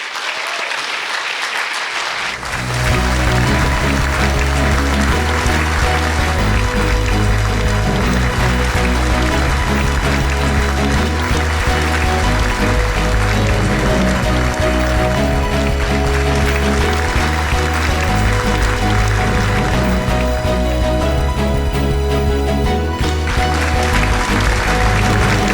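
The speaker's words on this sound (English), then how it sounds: "Let's give another round of applause to Marcy Ann Long." Applause for an award honoree at a community awards ceremony in Lake County: a large indoor audience claps steadily and loudly for over twenty seconds after a brief quiet start, a dense, even wash of hands.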